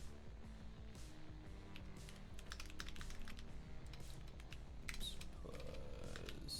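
Rapid typing on a computer keyboard, a steady run of quick close clicks and key taps lasting several seconds, fairly quiet, with no speech.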